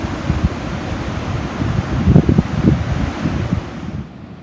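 Strong wind at the seashore on a cool day with big waves blowing sand, loud gusty buffeting across the microphone that swells in the middle and fades at the end, over the low rush of surf.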